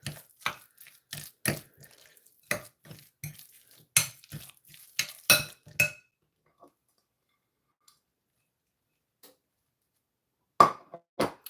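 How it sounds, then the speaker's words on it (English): A utensil clinks and scrapes against a bowl while grated cheese is worked into a hamburger mixture, giving an irregular run of sharp taps for several seconds, then quiet broken by a few more knocks. "last ingredient I mix up with the hamburger mixture is the cheese"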